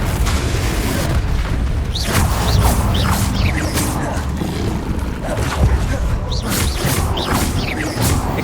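Spell blasts from the Confringo explosive charm in Hogwarts Legacy, a run of booming bursts with whooshing sweeps over dense, steady game combat noise, with voices in the background.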